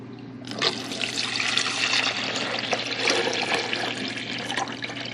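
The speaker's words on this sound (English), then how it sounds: "now we're going to pour the water in the back" Water pours steadily into the back of a container in a continuous splashing, trickling rush that holds evenly for several seconds, close and fairly loud, with no one talking.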